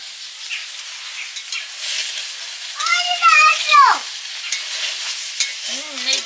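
Bitter gourd frying in a pan in a home kitchen, a steady hiss of sizzling oil with a voice briefly heard over it.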